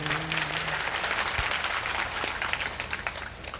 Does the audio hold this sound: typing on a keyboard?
no